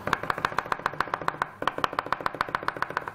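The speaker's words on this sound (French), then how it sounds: "je finis par le hacher" Garlic cloves chopped with a knife on a board: a fast, even series of crisp close taps, about two dozen strokes with one brief pause midway, heard alone.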